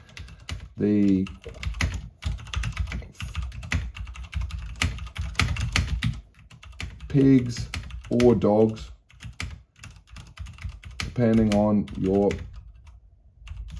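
Keys clatter steadily on a Josef mechanical keyboard, close and crisp, while someone talks over the typing in short bursts.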